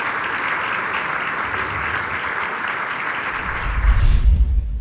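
Sustained applause from an audience in a hall at a human rights event, a dense even patter of many hands that thins out near the end as a low rumble comes in.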